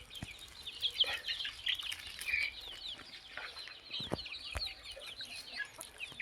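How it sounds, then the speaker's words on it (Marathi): Native desi hens and a rooster on a village poultry farm cluck and call in quick, scattered bursts, fairly faint and steady throughout, with no talking. "इकडं हा उलट्या पिसाचा कोंबडा आहे"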